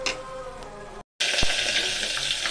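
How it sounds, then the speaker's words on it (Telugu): Spices crackle and sizzle as they are tempered in hot oil for tomato chutney, a close, dense frying hiss that cuts out briefly and returns louder, with a sharp pop or clink partway through. "తాలింపు వేసుకుంటున్నాను"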